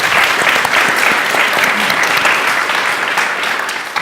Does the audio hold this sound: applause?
yes